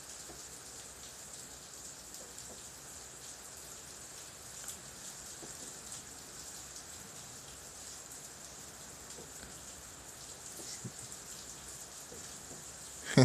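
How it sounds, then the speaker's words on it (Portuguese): Steady rain falls outside a window, a soft, even hiss of drops on surfaces that continues throughout at moderate distance, with no talking. "É, tá chovendo aqui"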